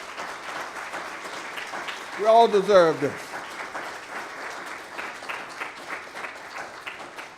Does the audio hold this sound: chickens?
no